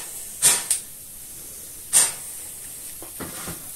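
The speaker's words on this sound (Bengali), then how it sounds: "শুকনো লঙ্কাটা আমি তেলের মধ্যে ছেড়ে দিচ্ছি, তেজপাতাটা দিয়ে দিলাম, পাঁচফোড়নটাও দিয়ে দিলাম।" Dried red chillies, bay leaf and panch phoron drop into hot oil in a kadai for khichdi. A few short hissing sizzles burst out, one at a time, with quieter crackles afterward and no talk.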